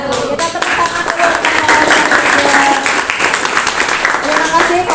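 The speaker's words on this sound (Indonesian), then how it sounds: "Kita tepuk tangan dulu" A class applauds a student group after its presentation, with dense, steady clapping filling the room and voices mixed in underneath.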